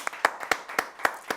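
A small group of audience members at a televised Ramadan quiz competition clapping in a sparse, evenly spaced rhythm of about six sharp, close claps, with no other sound between them.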